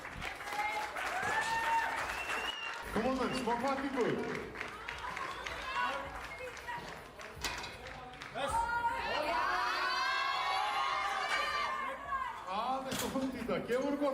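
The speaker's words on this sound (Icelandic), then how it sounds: "gefum henni gott klapp" Crowd applause with cheering and whoops for a junior lifter at a Nordic junior powerlifting championship, rising and swelling loudly over the hall while an announcer talks through it.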